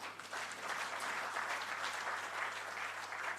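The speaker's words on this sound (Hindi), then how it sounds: "इतने बड़े सांभ्रांत वर्ग अभी ताली बजाकर आनंद व्यक्त करता है" Audience applause fills a book launch hall, a dense steady clapping that holds loud and even from start to finish with no voices over it.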